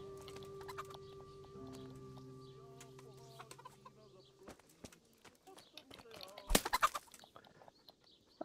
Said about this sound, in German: Ich kann auch nicht 200 Hühner töten.